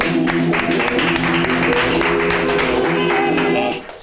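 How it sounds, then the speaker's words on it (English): An audience round of applause at a 1993 children's film event, close and steady under a droning tonal hum, fading slightly at the end. "Round of applause."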